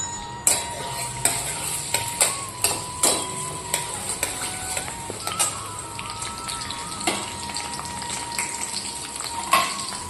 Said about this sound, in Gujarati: તેલ ગરમ થાય એટલે તેમાં જે લસણ સમાર્યું હતું તેને નાખી સાંતળી દઈશું।